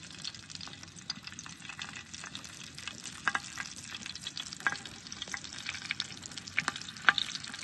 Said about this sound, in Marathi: सगळ्या मिरच्या अशा तळून घेतल्या मी.